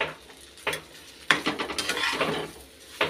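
Semolina tipped into a pan of fried onion, curry leaves, carrot and green chili and stirred, giving intermittent scraping clinks of a spoon against metal over a soft, quiet sizzle.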